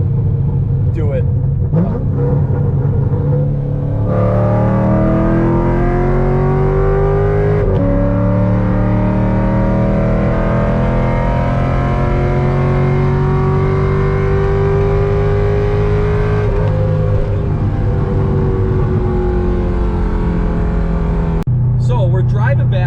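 Chevrolet Corvette C6 Grand Sport heard from inside while driving, a loud steady engine drone with gear-change pitch sweeps rising and dropping, and a passenger talking over it.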